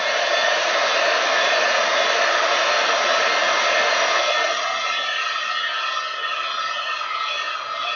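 Heat gun blowing steadily over wet craft stamping ink, giving a loud, even hair-dryer-like rush that softens slightly partway through and runs continuously with no talk.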